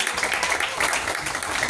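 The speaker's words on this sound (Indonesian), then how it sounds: "Beri tepuk tangan bagi Tuhan." A church congregation claps together in a steady, fairly loud burst of applause, with voices mixed in under the clapping.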